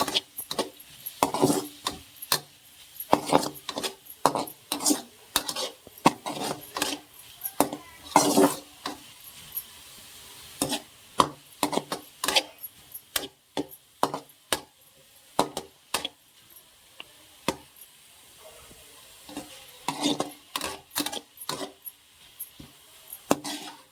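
Ingredients being sautéed with salt in a pan, sounding as repeated close wooden-spoon scrapes and knocks against cookware in an uneven stirring rhythm, with no talking.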